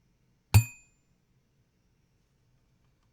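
A small dinky desk-style dinger bell gives one bright, clear ding that rings out and fades within half a second, close and alone in near silence, with a faint tap near the end.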